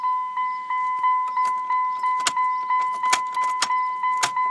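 A 2000 Dodge Ram 1500 Sport 4x4 pickup engine idling steadily with a rhythmic pulsing throb, loud and close, with occasional metallic clicks and jangles.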